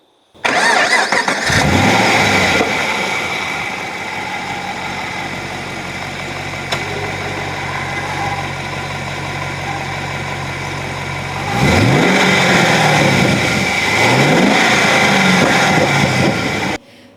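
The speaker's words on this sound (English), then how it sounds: "under the bonnet, we get GM's ubiquitous LS3" The GM LS3 V8 of a Holden Commodore Motorsport Edition, based on the VF2 SSV Redline, cranks and fires, settles into a loud steady idle, then revs hard twice near the end, close and with no talking.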